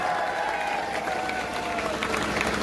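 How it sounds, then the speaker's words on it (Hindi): Steady, sustained clapping from a crowd at a rally over teacher recruitment, somewhat distant and even throughout, with a faint voice drifting underneath. "जोरदार तालियां होनी चाहिए"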